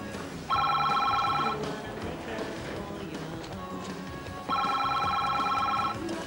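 A telephone rings twice indoors, each electronic trill lasting about a second, separated by a pause filled with quiet room noise.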